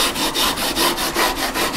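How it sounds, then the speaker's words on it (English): Rhythmic back-and-forth sanding strokes on a custom electric guitar, each pass a close, loud rasping sweep in an even steady rhythm, with no talking. "Sanding everything all the way up top"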